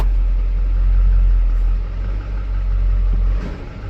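LB7 Duramax diesel pickup idling steadily, loud and close, with a low drone that dips slightly as it is shifted into drive.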